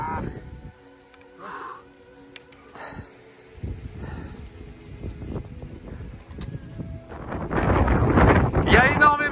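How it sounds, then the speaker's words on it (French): Strong wind gusts across the microphone on a forest hiking trail in the Sainte-Baume, swelling to a loud roaring buffet near the end, with people talking and breathing between gusts. "Il y a énormément de vent"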